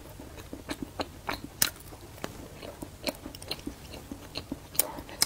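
Close-up bites and chewing of a crispy-skinned pastry, repeated crunchy crackles in an irregular rhythm over a quiet background, with no talking.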